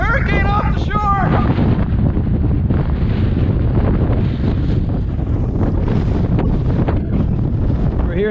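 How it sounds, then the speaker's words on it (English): Strong wind buffets the microphone on the Maine coast with a loud, constant roar, and a voice is briefly heard at the start. "Well, it's a bit breezy."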